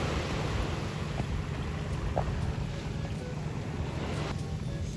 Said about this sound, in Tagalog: Sarap sa tainga ng hampas ng alon mga katilan.